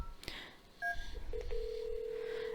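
Keypad tones from a Yealink T57W desk phone dialing an extension, with a few short separate beeps followed by a steady sustained tone, close and clear with no talking.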